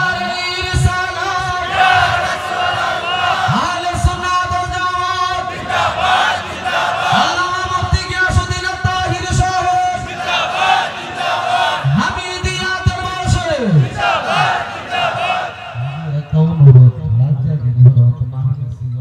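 A large crowd at an outdoor religious gathering in Ashuganj, Bangladesh roars and chants slogans in loud rhythmic waves over amplified voices, the mass shouting swelling repeatedly before fading near the end.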